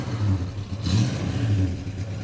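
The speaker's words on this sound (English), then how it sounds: "Okay, Dieter, rev the engine for me, sir." A 1961 Plymouth Fury convertible's engine, a mid-pitched idle that swells in one short rev before settling back, heard close and alone.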